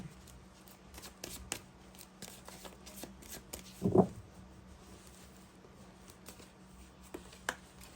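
Tarot cards are handled and drawn from a deck: soft, close shuffling and sliding with scattered papery flicks and one louder burst of riffling midway, with no talking.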